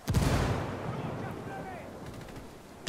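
A frag grenade blows up in Ghost Recon Wildlands: one loud, close blast at the start that thins into a long, rumbling decay of debris and echo, with a faint crack near the end.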